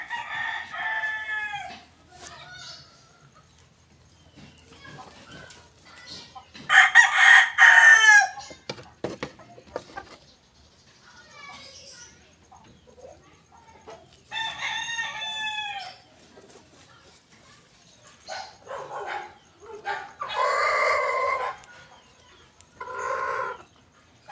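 Backyard breeding chickens with roosters crowing in several loud bursts, the calls drawn out and repeated across the yard, with scattered clucking between them and no talk.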